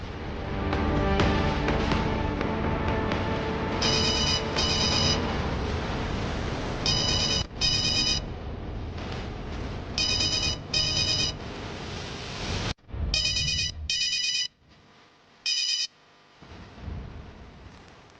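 A telephone ringing in repeated bursts, paired trills separated by short gaps, loud and clear at first over a dense music bed, then alone as the background drops out.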